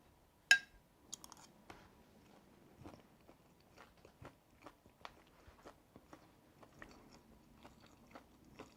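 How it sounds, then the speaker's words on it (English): Crisp bites and chewing of crunchy double-fried Thai-style chicken with red onions and mint, one sharp crunch at the start followed by a steady series of quiet, close crackling chews. "I hope you could still hear that it was still crunchy."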